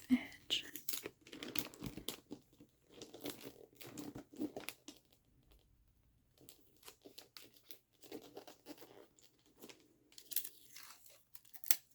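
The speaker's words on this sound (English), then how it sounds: "And I'm going to take a few pieces of tape for this edge." Close, soft crinkling and tearing of tape while gifts are wrapped, coming in short bursts with pauses between them and occasional quiet handling sounds.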